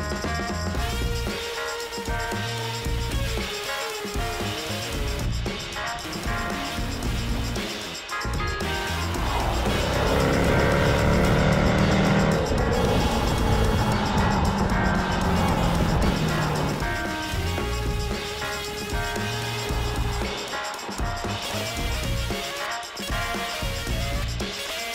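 A Jaguar F-Type's engine rumbles steadily throughout, swelling into a rising rev in the middle before settling back, heard from inside the car with someone talking over it.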